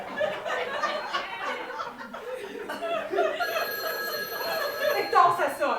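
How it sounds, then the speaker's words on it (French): A telephone bell rings in a steady bright trill through the second half, under continuous lively French conversation and chuckling voices in a room. "Hector, le téléphone, il sonne!"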